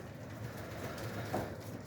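Pigeons coo softly inside an unheated, closed-up loft during freezing winter weather, a faint low murmur with one brief louder call near the end.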